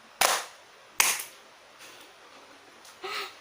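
Classroom of children clapping a rhythm pattern together: two sharp, loud claps about a second apart, then a fainter spread of claps and a final softer clap, with no talking.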